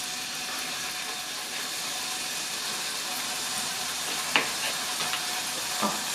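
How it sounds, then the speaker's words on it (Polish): Pork pieces for a dark goulash sizzle steadily in a hot pan, a constant close frying hiss with a couple of brief clinks of a utensil near the end. "No i będziemy smażyć."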